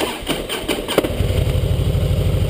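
A Harley-Davidson Fat Boy Special engine cranks with a few starter clicks, then catches into a loud, lumpy V-twin idle with an uneven thumping exhaust beat, close by and with no talking.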